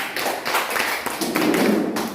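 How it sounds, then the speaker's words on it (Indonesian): A class of students claps for a group, a dense burst of close hand claps going on steadily throughout with no talking over it. "Kasih tepuk tangan buat kelompok Cempaka."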